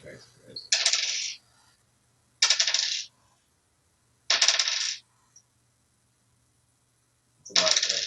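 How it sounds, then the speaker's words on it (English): Many dice are rolled during a tabletop role-playing game, in four separate bursts of sharp rattling clatter spaced a second or two apart, close and fairly loud, with quiet gaps between. "It's a lot of dice again."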